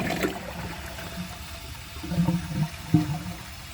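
A 2022 Mainstays HET toilet flushes a dish towel and clogs, giving a faint, muffled gurgle of water with a few low splashes and sloshes.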